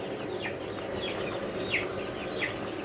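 Young chicks and chickens cluck and chirp in a large urban poultry house holding about 1200 birds, a dense continuous flock murmur with brighter peeping calls rising now and then.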